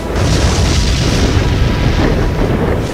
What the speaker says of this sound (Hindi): यूक्रेन पर बम और मिसाइल दागे जा रहे हैं।